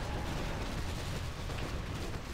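Cannon towers in Warcraft 3 Reforged firing repeatedly, a dense, continuous barrage of booming shots and impacts, loud and without talk.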